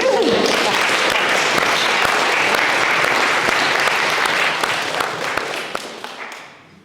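Audience clapping together at a solidarity gathering, loud, dense applause that holds steady and then tapers off as the clapping dies away.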